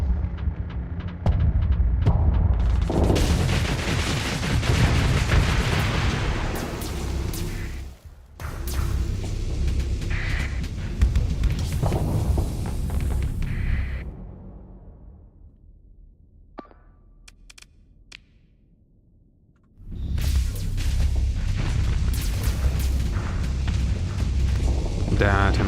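Spaceships blowing up in the space combat game Phase Ship: loud, rumbling booming blasts roll on for several seconds, fade into a quieter stretch with a few faint clicks, then another heavy explosive roar returns.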